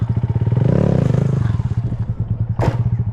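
Motorcycle engine revving hard in rapid pulsing bursts as the rider pops the clutch for a wheelie, loud and close, the revs swelling then easing, with a sharp clatter near the end.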